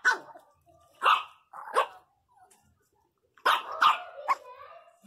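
A miniature pinscher barks angrily over its food in short, sharp bursts close to the microphone. A few single barks come first, then a rapid cluster, with quiet gaps between and faint growly yips.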